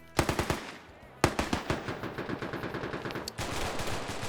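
Automatic machine-gun fire in a PvP shooter game rattles loud and close in rapid bursts, pausing briefly before resuming in long sustained volleys.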